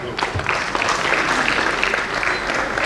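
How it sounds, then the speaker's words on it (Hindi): An audience at an awards event for a dance competition final breaks into sustained applause, a dense, steady clatter of many hands clapping close by. "जोरदार तालियां बजाएं"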